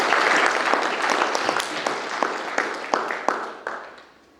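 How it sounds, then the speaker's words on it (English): An audience applauds a pastor at a university chapel service, steady hand clapping with sharp individual claps standing out, tapering off toward the end. "Let's give Pastor another hand clap"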